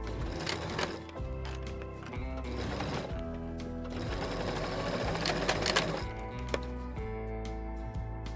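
A sewing machine stitches the closed corners of a tote bag lining, its needle clattering in quick continuous runs with brief stops, heard up close.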